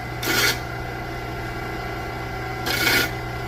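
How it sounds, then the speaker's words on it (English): Disc grinder touching up the thrust faces of connecting rod caps, with two short, bright rasping grinds against a steady, quiet motor hum. "I'm going to bump the thrust faces on this disc grinder."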